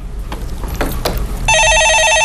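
A telephone rings in a studio during a stock-market call-in broadcast. It begins as a loud, steady electronic trill after a second of scattered knocks and background noise.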